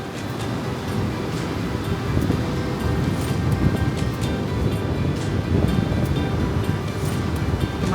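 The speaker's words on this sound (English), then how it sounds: "Look at these waves." North Sea waves break and wash ashore in a continuous loud rolling roar, with wind buffeting the microphone and no voices.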